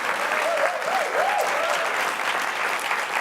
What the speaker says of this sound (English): First, I think we should really applaud Marc Sachs.